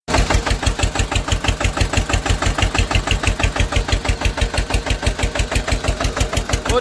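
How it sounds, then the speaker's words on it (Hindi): A tractor engine idles close by, a loud, steady diesel chug with evenly spaced rapid knocks continuing throughout without pause or speech. "ये देखिए भाई साहब दादा शंकर तेल डालते हुए ट्रैक्टर में"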